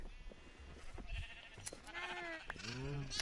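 Sheep in a video game bleat while being sheared: a few short, wavering bleats close up over soft background noise, with no talking.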